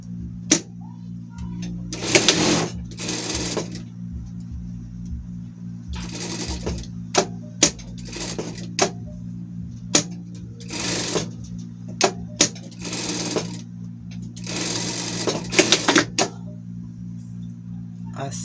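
A sewing machine stitches two fabric ears together in repeated bursts of rapid mechanical whirring, about seven runs separated by pauses filled with small clicks and handling noise, all close by.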